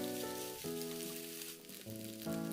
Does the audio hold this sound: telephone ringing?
no